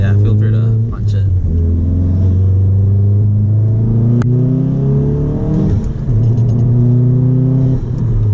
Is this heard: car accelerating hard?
yes